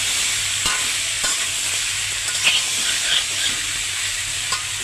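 Taro stolons fry in oil with a loud, close, continuous sizzling hiss, broken by a few soft stirring knocks and scrapes, with no voices.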